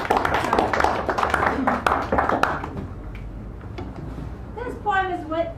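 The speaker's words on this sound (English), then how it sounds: "So now, I want to give claps back to you." A poet at a café poetry reading claps for the audience: a run of sharp, fairly close hand claps mixed with a murmur of voices for about two and a half seconds, then quieter sounds and a brief voice at the end.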